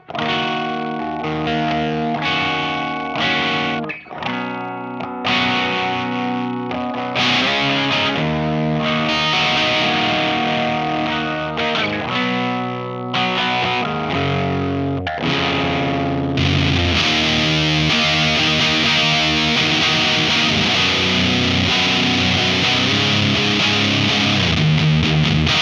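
Bass guitar run through a Proco RAT distortion pedal, with the gain fully up, plays a continuous distorted riff with sustained fuzzy chords and rhythmic note changes, loud and alone without talk.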